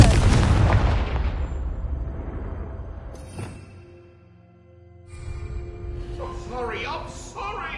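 A Confringo fire spell in Hogwarts Legacy detonates with a loud, deep explosive boom that rolls off and decays over a few seconds, followed by quieter game ambience and a brief voice.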